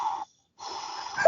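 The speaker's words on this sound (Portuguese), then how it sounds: "e aí ele estava roncando" A sleeping person's snoring and breathing on a recorded audio message, with two rasping, wheezy breaths split by a short silence, heard close and fairly loud.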